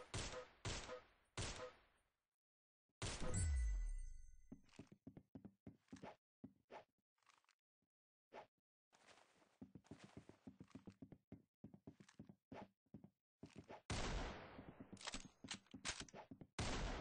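Gunfire in the Roblox shooter Arsenal: bursts of sharp, loud shots come in rapid clusters with brief gaps, close and dry, with no talk over them.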